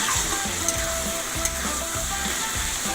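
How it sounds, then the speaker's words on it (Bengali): Chopped snake gourd fries in hot oil in a pan, giving a steady sizzle that runs throughout, with soft scraping clicks from occasional stirring close by. "তেল ছাড়তে শুরু করেছে, আর কিছুক্ষণ ভাজা হলেই ডিমটা এর মধ্যে মিশিয়ে দেবো।"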